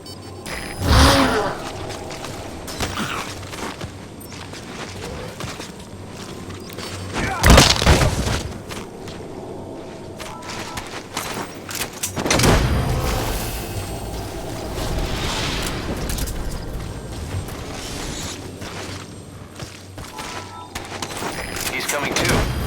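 Gunfire and heavy explosions in Metal Gear Solid 5 hit as repeated loud booms and bursts over a steady rumble of game noise, with voices heard speaking at moments between the blasts.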